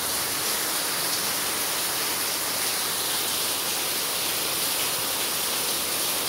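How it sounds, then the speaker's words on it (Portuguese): Heavy rain pours down steadily after a sudden turn in the weather, a dense continuous hiss that stays loud and even throughout with no voices. "De repente, assim, fechou o tempo e começou essa chuva."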